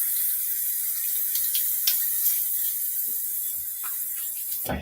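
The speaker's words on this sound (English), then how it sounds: "let's get a little bit of water" Tap water runs steadily for a shaving rinse at a sink, a continuous soft hiss with a few small splashes and clinks, fairly close, with no talking.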